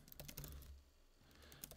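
Quiet keyboard typing on a computer while writing notes in the Notion app, a quick cluster of soft key clicks, a pause, then a few more taps near the end.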